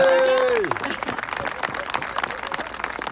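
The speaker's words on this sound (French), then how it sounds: "on peut les applaudir" An audience applauds wind bands at a concert in Blaye, a dense, loud burst of clapping that follows a voice over a sustained tone and carries on strongly to the end.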